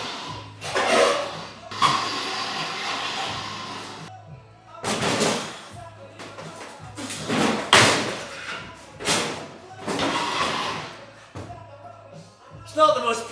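The door of a shop oven used for powder coating is opened and closed, giving repeated heavy slams, thumps and clunks spread between pauses, close by, with talking mixed in.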